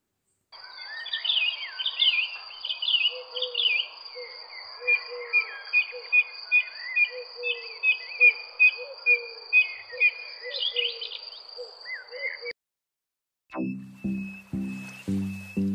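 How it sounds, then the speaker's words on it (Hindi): Forest birds calling around a Shiva temple, repeated chirps and whistled phrases over a steady high insect-like drone, fairly close, then a brief pause and a few louder harmonic calls at the end. "चार दिशा में से पक्षियों के आवाज सुनने को मिलेगा आपको।"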